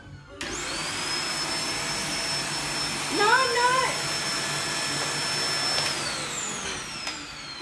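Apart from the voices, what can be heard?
vacuum cleaner running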